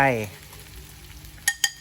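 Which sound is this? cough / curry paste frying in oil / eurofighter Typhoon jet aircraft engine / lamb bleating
curry paste frying in oil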